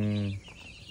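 Broiler chickens in a cage give a brief, loud, harmonic cluck followed by softer low clucking, close by and with no talk.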